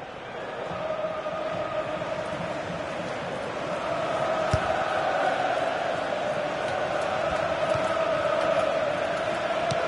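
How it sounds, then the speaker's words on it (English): Crowd in a football stadium during a Liverpool career-mode match, a broad, steady roar of applause and cheering that swells slightly partway through and holds, heard at a distance. "Coming off slowly to the applause of the crowd"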